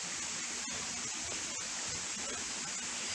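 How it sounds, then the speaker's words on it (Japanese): The Arima River near the Arima Onsen station, where a small waterfall spills along the stream, makes a continuous, even rush of flowing water, moderately faint and steady throughout with no voices. "この部分はやや滝になっていて、あちらがやや滝になってるんですけども"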